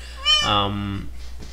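A house cat lets out one loud, close, rising-and-falling meow lasting under a second, followed by a faint shorter chirp, in a quiet indoor room.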